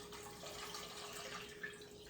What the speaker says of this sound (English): I'm going to add water to completely cover, because we're actually going to boil these